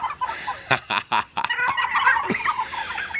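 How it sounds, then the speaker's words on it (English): Several turkeys on a turkey farm gobble and chatter close by in quick bursts, overlapping calls rising and falling over a few seconds. "We're raising a whole bunch of turkeys, see them?"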